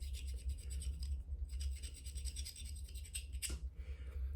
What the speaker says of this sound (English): you can put the end on it and sit here and scrape off every little bit of carbon